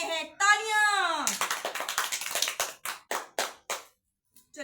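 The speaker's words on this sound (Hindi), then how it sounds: "तालियां।" A short burst of hand clapping from a small family group during a sour-and-sweet food challenge game, coming right after a brief spoken voice, with irregular claps that thin out into a few separate slaps.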